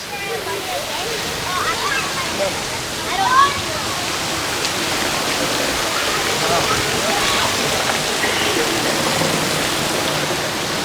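Steady rushing and splashing water fills a large kids' splash area at Aulani, a Disney resort in Hawaii, continuous and fairly loud, with faint chatter and distant voices mixed in and a brief bump of noise partway through.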